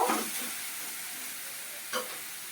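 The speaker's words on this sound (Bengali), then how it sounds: "এবার নেড়ে নিচ্ছি, ভালো করে ভেজে নেবো।" Soft, steady sizzling of okra frying in oil, with a couple of brief scraping stirs at the start and near the end.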